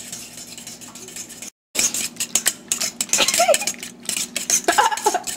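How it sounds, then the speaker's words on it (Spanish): A fork beating eggs in a bowl, with rapid metallic clinks and scrapes in a busy, close rhythm after a brief silent gap, with no talking. "Bata los huevos con un tenedor."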